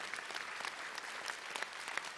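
A church congregation at a prayer meeting applauds together, a soft, steady patter of many hands clapping at some distance and fairly quiet.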